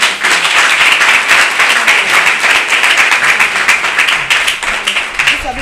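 Congregation in a church applauding together, a loud, dense, steady burst of clapping sustained throughout, close and full with a voice faintly underneath.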